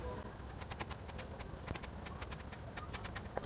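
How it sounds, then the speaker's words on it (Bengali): A knife finely chops spring onion leaves on a board for a Korean-style cucumber salad, giving a rapid, steady run of close, crisp taps throughout. "তো এইগুলোকেও একদম কুচি কুচি করে কেটে নিতে হবে এইভাবে"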